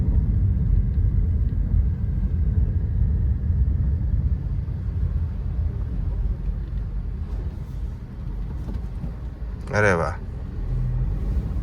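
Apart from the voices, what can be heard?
Maruti Suzuki Ignis car driving, slowing and changing gear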